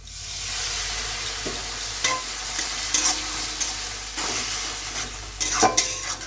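Chopped onion and onion paste fry in a pan with a little kasuri methi. A continuous sizzle carries scattered scrapes and knocks from stirring against the pan, with no talking.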